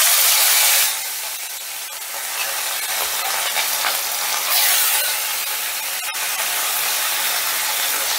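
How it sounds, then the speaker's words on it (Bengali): Fish sizzling in hot oil in a pan, a steady loud frying hiss that runs throughout with slight swells and crackles, no voices present. "এবারে আমি মাছগুলো ভেজে নেব।"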